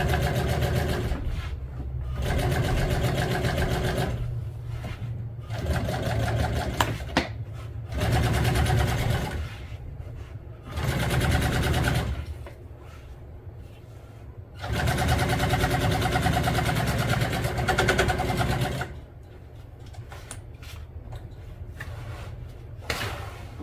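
A sewing machine stitches vinyl upholstery for a truck seat, running in close, steady whirring bursts several seconds long, separated by quieter pauses with faint handling sounds.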